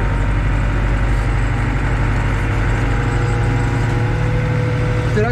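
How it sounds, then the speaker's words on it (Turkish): A New Holland TD 95 D 4x4 tractor engine idles steadily and loudly nearby during sand work at Konyaaltı, a continuous low rumble with no one speaking. "Traktörümüz 4x4 herhalde."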